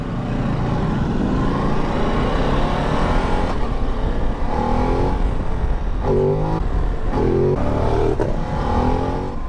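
A Ducati DesertX motorcycle being ridden on a road trip toward Saint-Tropez, its engine droning steadily then revving up and down through several gear shifts, loud and close with wind noise.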